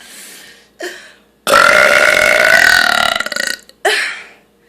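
A young man lets out several loud burps close up, a couple of short ones followed by a long drawn-out belch and a final short burst.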